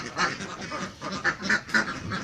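CP Khaki Campbell laying ducks quack repeatedly on a farm flock of about 600 birds, a fairly loud, steady run of overlapping calls with several sharp peaks close by.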